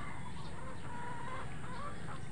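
Soft, low clucking from a chicken close by, continuous over a faint noisy background, with no one talking.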